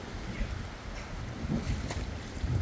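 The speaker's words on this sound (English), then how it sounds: "It's pretty windy." Strong wind gusting across an open lake beside a stalled barge, a steady rushing roar with low buffeting against the microphone, no voices.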